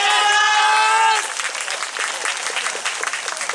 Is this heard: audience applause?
yes